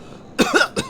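A man coughs in two short bursts after a brief quiet pause, the harsh broadband coughs close and clear with no talk around them.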